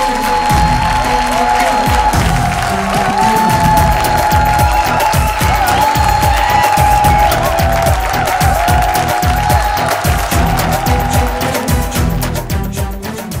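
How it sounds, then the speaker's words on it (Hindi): A studio audience on a Bhojpuri TV dance show applauds and cheers for the dancers, a loud, sustained wash of clapping that fades only slightly toward the end. "जोरदार ताली"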